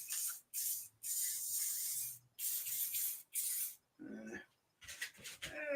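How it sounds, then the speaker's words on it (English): A can of gray spray paint hisses in about five sharp, close bursts of roughly half a second to a second each, separated by brief silences, followed by softer rustling handling noises at the end. "I'm just going to literally just hit it with a gray spray just to see the effect at this point."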